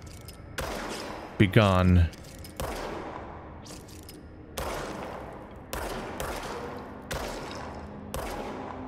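Enemy gunfire aimed at the player in the video game Control, bursts of shots that start and stop repeatedly, with a tonal game effect briefly rising over them and a voice speaking once.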